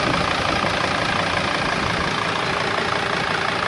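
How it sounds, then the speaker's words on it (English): A Mercedes Sprinter's 2.7L diesel idles in a steady, even rumble that holds at a constant level throughout, heard alone and close by with no voices. "And look how nicely the engine works. Beautiful sound. See? This is how an engine should sound."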